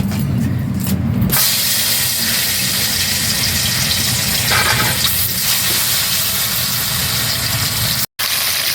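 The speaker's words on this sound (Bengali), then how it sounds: "তেল খুব ভালো করে গরম হয়ে গেছে, আর এখন আমি মাছগুলোকে একটা একটা করে ভেজে নেব" Shankar fish sizzling as it fries in hot oil in a home kitchen, a steady loud hiss and crackle throughout with a brief sharper burst at the start and a short drop near the end.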